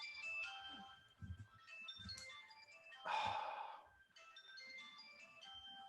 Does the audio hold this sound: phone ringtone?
yes